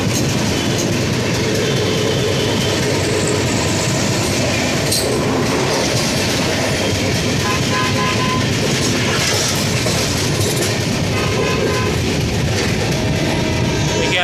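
Chennai Mail express train rolling at speed toward the Godavari bridge after Rajahmundry, a steady loud rumble with rhythmic clickety-clack of wheels on rails and faint squeal, continuous throughout with no talk.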